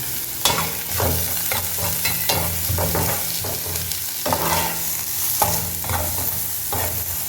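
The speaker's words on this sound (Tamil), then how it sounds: "ஸோ இது நல்லா கொஞ்சம் வதங்கட்டும்." Vegetables for veg puffs sauté in a pan, a steady close sizzle of frying broken by repeated scraping and stirring strokes, with no voices.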